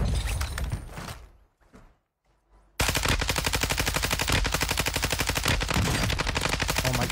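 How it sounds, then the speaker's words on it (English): Video game gunfire, a dense loud stream of rapid automatic shots after a brief quiet gap, with heavier noise before the pause. "Taking effective fire!"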